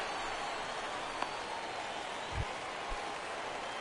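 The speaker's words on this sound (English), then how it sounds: "Why is it raining on my game?" Rain falling in the MLB The Show baseball video game, a steady broadband hiss of drizzle over the ballpark with a couple of faint low thumps, no voices.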